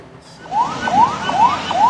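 An ambulance carrying a patient from Puskesmas Sulamu, pushing through floodwater near Kupang, sounds its siren in a rapid repeating rising wail, loud and fairly close, over a steady background rush.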